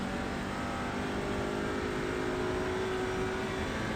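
Race car engine from a VR sim racing game, a steady, continuous drone with a faint rising tone, heard alone at low level with no talk.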